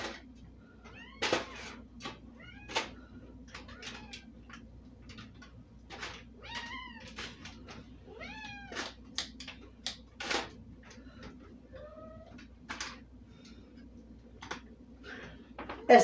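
A cat meows repeatedly in short, rising and falling calls as a can is opened in a home kitchen during meal prep, scattered over sixteen seconds above a steady low background hum.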